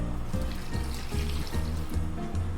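Eight cups of water poured into a pot for a fresh corn stock with parsley, fennel fronds and peppercorns, a steady close trickling and filling sound with low burbling pulses throughout.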